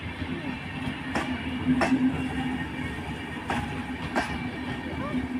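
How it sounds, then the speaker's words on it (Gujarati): A long, crowded passenger train rumbles steadily with a low hum and repeated clanks and clicks of the wagons, heard from on board. "ખૂબ લાંબી ટ્રેન છે."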